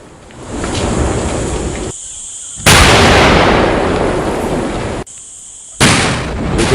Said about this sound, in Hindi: बम को नष्ट करने के लिए सुरक्षा बलों ने जो विस्फोट किया